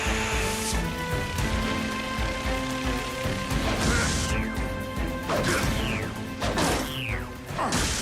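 Robots in a cartoon smashing invading probes amid a busy, loud din of repeated crashes and thwacks, with several swooping electronic whooshes and a constant noisy rain-like clatter underneath.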